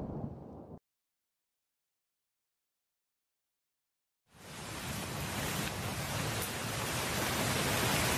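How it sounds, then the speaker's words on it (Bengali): Rain showering down on a village courtyard, starting after a long silence and building into a steady broadband hiss that grows louder; a faint short sound is heard at the very start. "যাক, বৃষ্টিটা হয়ে ভালোই হলো।"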